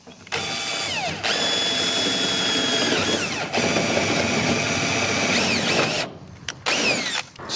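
A cordless drill whirs in long sustained bursts, starting roofing screws through metal sheet on a bunker roof during a solar panel install, with brief pauses and ratcheting clicks between runs, loud and close.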